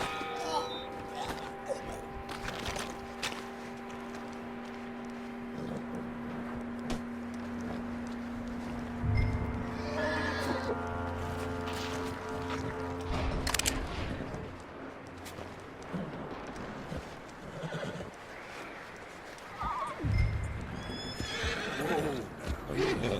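A horse in the video game Red Dead Redemption 2 whinnies and neighs repeatedly over steady clip-clopping hooves, with sustained tonal game music and occasional distant gunfire-like booms in the background.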